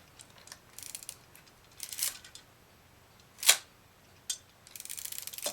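A Vivitar 250/SL film camera under repair clicks and ratchets as its advance lever is wound several times, with one sharp shutter snap in the middle and a final run of quick winding clicks, close and alone.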